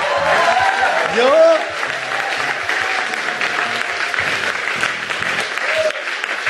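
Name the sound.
congregation applause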